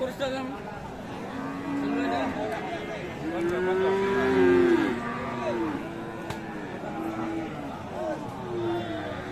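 Cattle low and bellow amid a busy Aftabganj livestock market where Friesian and crossbred bulls and calves are sold, the calls rising over steady crowd chatter and nearby talk.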